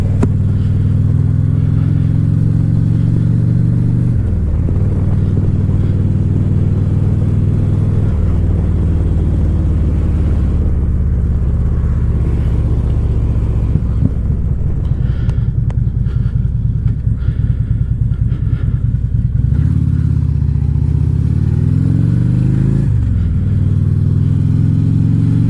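A motorcycle rides along a road with a steady, loud engine drone and wind rumble, the pitch dipping and rising through a couple of gear changes, no talk over it.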